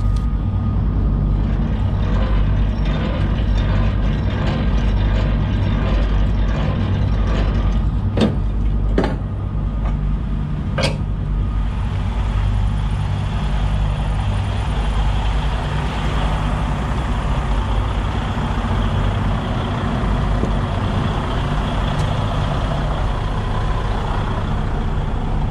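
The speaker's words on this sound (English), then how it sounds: "Truck's just barely starting to warm up now." A truck engine idles steadily through a cold winter warm-up, a loud, continuous low rumble with a few brief sharp clanks early on and no talking.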